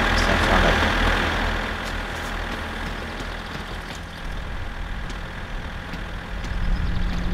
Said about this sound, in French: Il fait un bruit ce tracteur.